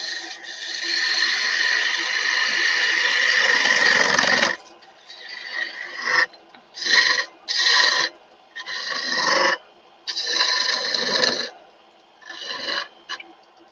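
Lathe tool cutting wood while turning a Christmas tree ornament: a sustained loud rasping cut for about four seconds, then a run of shorter bursts of cutting with brief gaps, close and alone.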